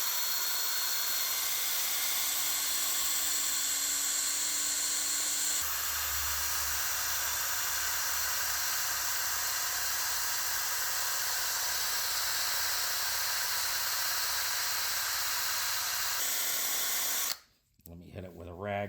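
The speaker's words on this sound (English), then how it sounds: "wheel's going to pick it up when I start polishing it with the drill" A handheld power drill spinning a polishing wheel against rusty chrome gives a loud, steady high-pitched whir, with a lower grinding tone joining partway through before the drill stops near the end.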